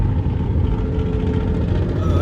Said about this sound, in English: that truck sounds terrible